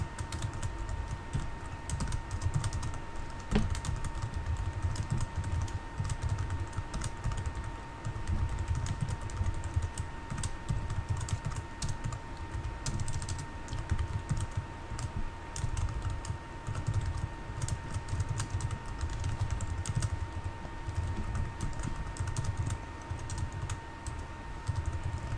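Continuous close typing on a computer keyboard as code is entered, a dense run of rapid key clicks over steady room noise, with no talking.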